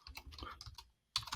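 Rapid keystrokes on a computer keyboard while a subdomain is entered, a close run of crisp clicks that pauses briefly before another quick burst of typing.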